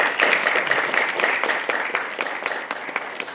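A crowd applauds steadily, dense clapping from many hands filling the room at a strong, even level.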